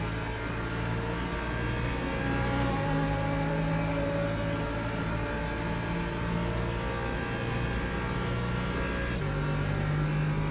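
Race cars, among them a Lexus and a Porsche, lapping in the racing game Le Mans Ultimate: a steady, loud engine drone runs throughout, with its pitch stepping up and down through gear changes and no voices.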